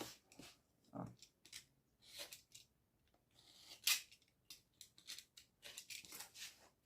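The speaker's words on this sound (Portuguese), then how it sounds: "O que não sair com estilete, eu tiro com a tesoura." Scissors snipping away excess fabric while covering an articulated two-tier box, a series of irregular crisp cuts and rustles at close range, with no talk.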